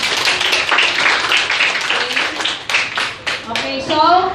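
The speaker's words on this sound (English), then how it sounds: "Everybody clap." A classroom group claps together on cue, a dense burst of many hands that stays steady and loud, then thins toward the end as a few voices speak over it.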